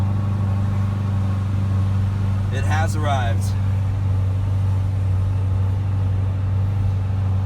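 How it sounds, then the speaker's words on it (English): A 2017 Corvette Z06 built to 1400 horsepower cruises gently, its engine a steady, subdued low drone that holds even throughout while a person speaks briefly over it. "you'll notice as you drive the car, it's pretty docile and quiet"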